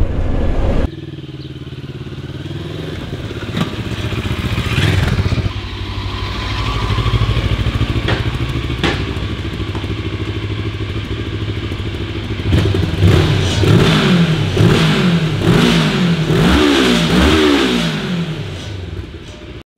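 A Moto Morini X-Cape 650 motorcycle engine runs loud and close, idling with a low throb before several rising revs that carry a rattling vibration. Mechanical clatter sits under the engine note, and no voices are heard.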